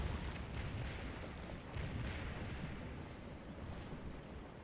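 Musket volley fire from Civil War infantry in the strategy game Scourge of War, a faint, rolling crackle of many distant shots blending into a continuous rumble of battle.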